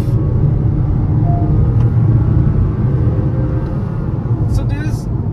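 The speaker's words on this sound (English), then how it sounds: "and the engine roars back to life" An SUV engine roars after a shift down to a lower gear during city driving, a loud, continuous, close low rumble that stays steady throughout with no pauses.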